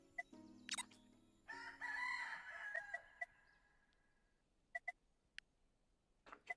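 Video game chickens crow and cluck: a loud rooster crow with clucking near the start, followed by sparse sharp clucks and clicks scattered over a quiet background.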